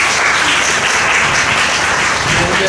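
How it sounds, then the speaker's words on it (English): Loud, sustained applause from a classroom or seminar audience at a teaching session, a thick, even roar of many hands clapping with no pauses. "Please clap with me"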